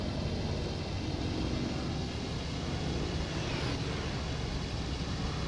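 A Hawker Hurricane fighter plane flies past in the IL-2 Sturmovik combat flight game, heard as a constant, dense engine roar that fills the whole clip with a faint swell partway through.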